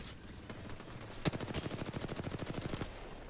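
A Nemesis gun fires in a video game in a rapid, steady burst of about twenty evenly spaced shots after a single sharper report, heard close and alone with no talk.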